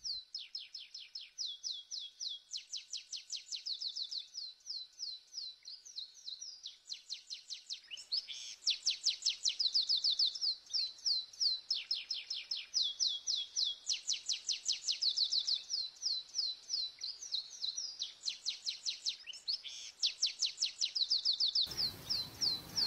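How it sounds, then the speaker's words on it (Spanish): Wild birds such as canaries, blue tits, chaffinches and turtle doves gathering to drink at a water's edge, with a dense, continuous chorus of bright, rapid chirps and trills, close and lively throughout, with no talking. "Las aves aprovechan la ocasión y se acercan a beber a sus orillas muchas especies que provienen de toda la zona, como canarios, herrerillos, pinzones azules o tórtolas."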